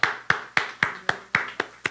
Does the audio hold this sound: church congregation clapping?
yes